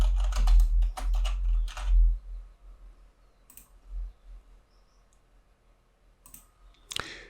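A computer keyboard typed in quick bursts of clicking keystrokes while a file name goes in, close and crisp, with a couple of isolated clicks after the bursts and a brief click near the end.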